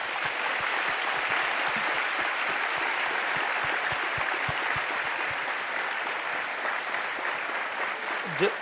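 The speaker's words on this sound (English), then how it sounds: "A round of applause for our guests." Sustained applause from a conference audience honoring guest astronauts at a space festival opening ceremony, steady dense clapping that stays loud and even throughout, fading slightly toward the end.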